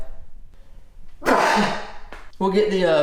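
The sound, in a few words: sneeze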